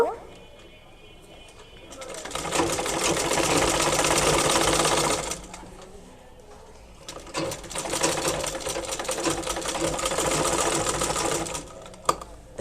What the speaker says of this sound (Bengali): এভাবে করে সেলাই করে নিব